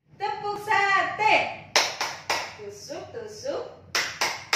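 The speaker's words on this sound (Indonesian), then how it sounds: "sekarang kita akan tepuk-tepuk biar kalian tidak lupa tepuknya di sekolah" A children's clapping game rhythm led by a teacher for young preschool pupils, with a voice chanting the game and sharp claps falling in short groups between the sung lines.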